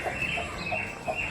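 Two farm hens cluck in short, soft bursts spaced across the moment, close by, over a steady background hiss.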